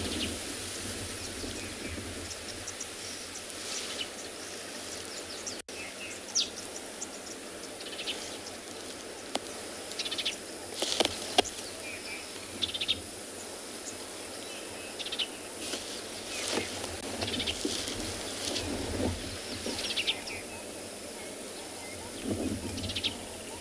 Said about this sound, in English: it is breeding season. That's why all the birds are making so much noise.